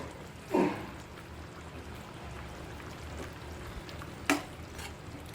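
Raw mango pieces are added to brinjal already cooking in a pan for a spicy dried-fish vangi dish. Two brief, distinct drops or clatters sound over a quiet, steady background sizzle.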